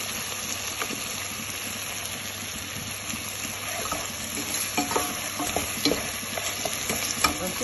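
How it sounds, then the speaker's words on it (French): Pieces of meat fry in oil in a pan, a continuous crackling sizzle with scattered pops and spits that grow busier toward the end, heard close up with no talk. "j'ajoute juste un peu d'huile pour la frire"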